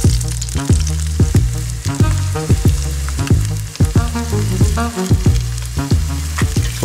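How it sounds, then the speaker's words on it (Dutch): Loud, constant sizzling of fish frying in a hot pan, with occasional sharp crackles and pops standing out above the hiss. "nu wordt het tijd om de zeekruil te gaan bakken"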